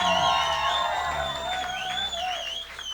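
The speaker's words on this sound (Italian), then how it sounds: "Facciamo un applauso." An audience at a small live music venue cheers and applauds a band, a steady mix of clapping, whoops and shouts at moderate level.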